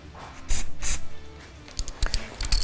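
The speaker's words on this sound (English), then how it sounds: "And then of course, blow it all out with carb cleaner." Carb cleaner sprays onto a Honda GX carburetor in several sharp, close hissing bursts: two longer blasts early, then a cluster of quick short squirts.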